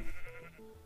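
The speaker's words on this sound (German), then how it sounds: "Das sind Schafe." A sheep in Minecraft gives a single short bleat, close and clear, fading into quiet game ambience.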